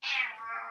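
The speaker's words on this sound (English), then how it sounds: "it's a real cat." A single drawn-out cat meow, fairly high and slightly falling in pitch, heard close and alone.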